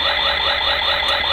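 A worn old Kamen Rider Kabuto Zecter toy lets out a steady, harsh electronic tone, loud and continuous like a buzzing alarm, with no voices over it.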